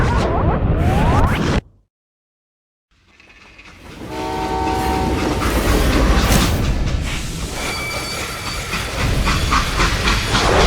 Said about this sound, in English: They hopped a freight train